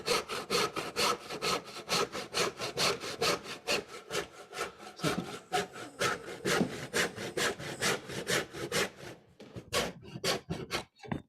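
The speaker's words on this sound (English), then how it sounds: "I am sawing it a little loose." A hand saw cuts through wood in steady back-and-forth strokes, close and rhythmic, slowing briefly near the end before a few final strokes, during a woodworking demonstration.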